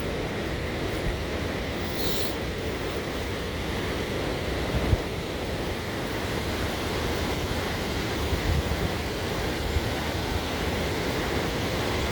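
Roaring river rushing toward the American Falls at Niagara, heard from Goat Island as a steady, dense wall of water noise that holds constant, with faint wind and a few small knocks.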